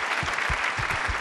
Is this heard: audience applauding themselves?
yes